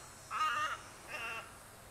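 A bird near a backyard lake gives two harsh, crow-like caws, one after another, fairly close and clear over quiet outdoor background.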